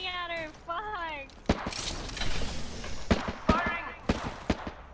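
Video game gunfire crackles in quick bursts of sharp shots, loud and close, following a short stretch of tonal game sound, with a player's voice talking over parts of it.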